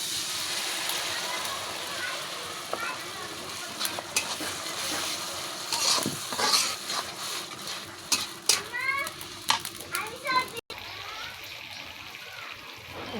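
Onions frying in a pan with a mixed spice blend being stirred in, giving a steady sizzle with scraping and stirring clatter that grows busier toward the end.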